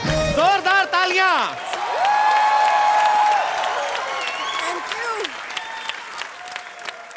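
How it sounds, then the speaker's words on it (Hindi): Studio audience at a television comedy show applauding and cheering, loud and close, overlaid with a burst of musical fanfare and sweeping tones, the crowd noise continuing beneath. "जोरदार तालियां।"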